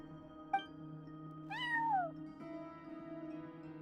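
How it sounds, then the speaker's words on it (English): A single cat's meow, rising then falling in pitch, close and clear over a steady hum of indoor background tones, with a brief click just before it. "cat watching over the front desk. Excuse... meow?"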